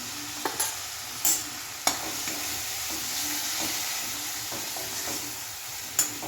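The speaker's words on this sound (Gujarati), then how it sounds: "થોડી વાર તેલમાં શેકાવા દઈશું" Turmeric and spices roasting in hot oil for a Gujarati brinjal-fenugreek dish crackle with a constant sizzle, punctuated by several sharp scrapes and clicks of stirring, close and alone.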